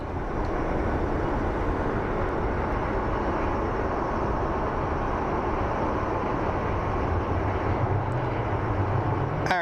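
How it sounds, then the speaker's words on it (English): Boeing 787 Dreamliner jet engines at Phoenix Sky Harbor International Airport give a constant broad roar as they spool up, heard steadily at a distance without talk. "Alrighty, Dreamliners spooling up and moving."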